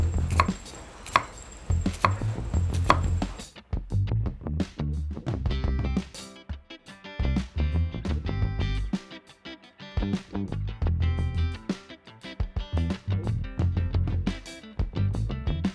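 Thin slicing of bitter gourd (ampalaya) with a knife on a cutting board, a rapid run of sharp close chops that pauses briefly and then continues steadily with no talk.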